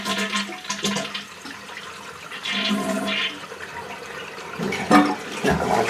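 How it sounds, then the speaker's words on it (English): A toilet flushes close by, a rushing, gurgling surge of water that runs for several seconds with no one speaking. "flush the toilet and see if we get any leaks there"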